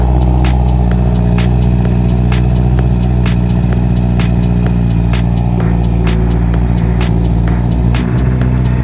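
A Honda CB650R motorcycle with an Akrapovic full exhaust system, silencer removed, idles and revs with a deep, rumbling exhaust note, steady throughout with repeated sharp ticking pulses layered on top.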